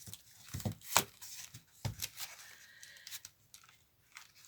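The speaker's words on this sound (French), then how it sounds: "je coupe ça pour pouvoir vous le feuilleter" Scissors snipping through packaging on a book bought at Action, with several sharp close cuts and crinkling in short bursts, no talking.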